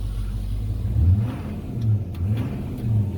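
Idling LMM Duramax diesel pickup fitted with a 4-inch MBRP exhaust and muffler, giving a steady low rumble with several short throttle blips rising and falling, close by and fairly quiet.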